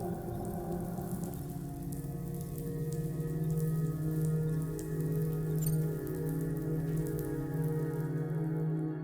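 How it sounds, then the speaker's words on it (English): Rain in the video game Death Stranding 2, a steady soft patter of raindrops on a surface over a low humming game drone, moderately quiet and continuous. "Those raindrops are falling on my head."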